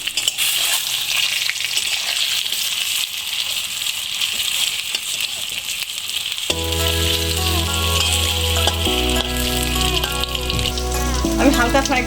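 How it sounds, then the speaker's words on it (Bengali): Semolina-stuffed tiffin snacks shallow-fry in hot oil with a loud, steady crackling sizzle that runs throughout, joined halfway by tonal background music. "এবার টিফিনগুলো আমি এর মধ্যে দিয়ে দিচ্ছি। আমি একটু হালকা ফ্রাই করব।"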